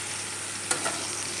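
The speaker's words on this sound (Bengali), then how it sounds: "এবার ফুলকপিগুলোকে সুন্দর করে ভেজে নিচ্ছি।" Cauliflower florets frying in a pan for a lentil-fritter potato curry give a steady, quiet sizzle, with a couple of soft stirring scrapes partway through.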